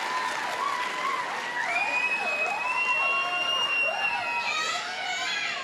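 A studio audience at the 2007 TVW Telethon cheers and applauds loudly and continuously, with high-pitched squeals and whoops rising above the steady clapping.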